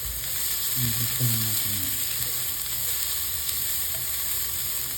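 Onions frying in a pan for Filipino pork menudo give a steady, close sizzle throughout, with a voice talking briefly over the crackle.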